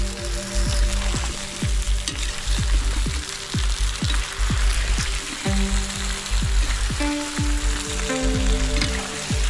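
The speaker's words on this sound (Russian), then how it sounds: "Кидаем картошку," Potato wedges fry in hot oil in a kazan cauldron for zharkoe, a loud, continuous sizzle dense with sharp crackling pops throughout.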